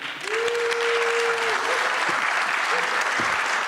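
A crowd applauds the candidates at a U.S. Representative District 2 candidate forum in Redding. The clapping is steady and sustained, with a brief sustained tone sounding early on.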